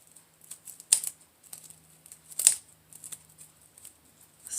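Scissors snip at scarecrow wreath material in a quiet room, a few sharp crisp cuts among light rustling and crinkling, close and irregular.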